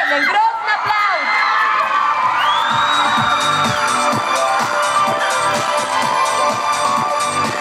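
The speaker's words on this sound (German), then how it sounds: "Einen grossen Applaus!" A crowd at a 1997 talent show cheers, whoops and shouts loudly and continuously, with children's voices and a whistle-like rising tone standing out above the dense, lively roar.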